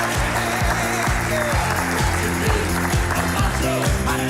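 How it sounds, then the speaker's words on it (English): Steady, dense audience applause fills the room at a live episode, loud and continuous from start to finish with some rhythmic low thumps underneath. "How about a big round of applause once again?"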